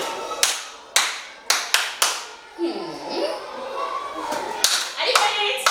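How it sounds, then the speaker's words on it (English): A love clap, a patterned hand-clapping rhythm: several sharp, close claps in an uneven sequence, then a pause filled with a voice, then more claps to finish. "Let me quickly teach you how to make a love clap"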